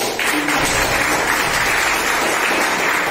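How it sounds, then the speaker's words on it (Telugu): Applause from participants at an acting and anchoring training class, a brisk, dense burst of many hands clapping that starts abruptly and continues evenly at close range with no voices. "సో ఒక్కసారి శ్రీనివాస్ గారి క్లాప్స్ తో"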